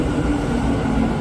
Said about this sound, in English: That's our train, right there.